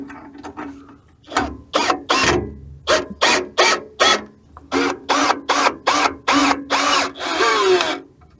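A power tool tightens a nut on a Rival lower control arm skid plate, giving loud, close, rapid ratcheting bursts in a regular series of short pulses with brief gaps between them.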